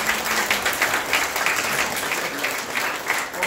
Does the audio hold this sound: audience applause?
yes